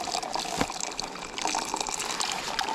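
Water pours into a container for instant coffee at a winter mountain camp, a steady close gushing splash that runs throughout with slight surges, and no one speaks.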